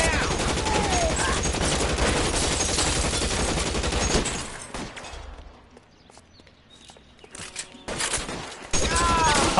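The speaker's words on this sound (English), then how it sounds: "Got a Tommy gun in my hand." Tommy gun bursts in the video game L.A. Noire, sustained rapid automatic fire for several seconds, a quieter gap with scattered mechanical clicks, then firing resuming loudly at the end.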